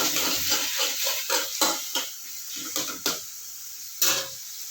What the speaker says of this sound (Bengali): কষা একটুখানি ভালো করে কষিয়ে নিচ্ছি